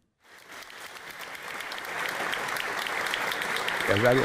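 Applause rises in the Chamber of Deputies as members give a standing ovation, swelling from silence into steady crowd clapping, with a voice cutting in at the very end.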